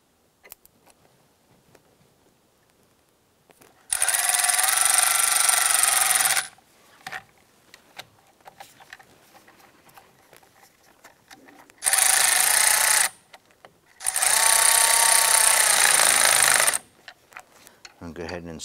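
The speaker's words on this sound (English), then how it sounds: "Go ahead and reconnect your battery terminals and we'll tighten those down." Power tool tightening battery terminal nuts on a 2008-2013 Nissan Rogue, three loud whirring bursts of a few seconds each separated by quiet pauses, close by.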